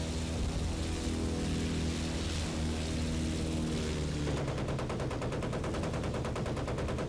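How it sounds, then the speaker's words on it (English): Anti-aircraft flak fire in Battlefield 1943 rattles in fast repeated bursts, loud and continuous, over the drone of a propeller aircraft engine. "Anti-air is definitely trying to shoot at me."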